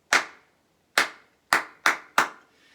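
Sharp hand claps made with fingers striking a cupped palm, five crisp pops in an uneven disco rhythm from a song, close and dry with nothing else around them.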